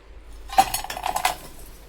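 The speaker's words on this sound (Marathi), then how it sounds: "आता एका भांड्यात आपण गुळ घालून घेऊयात" Jaggery goes into a metal cooking pot, making a short burst of clinks and knocks against the vessel and a spoon, fairly close and otherwise quiet.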